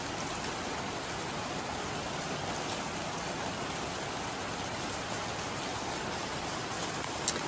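Steady rain falls continuously, a dense even hiss of drops with no pauses.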